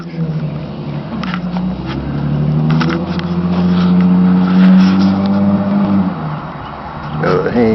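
A 1999 Chrysler 300M fitted with a Flowmaster exhaust idles and swells in a loud, deep, steady rumble close by, with a rise in revs near the middle.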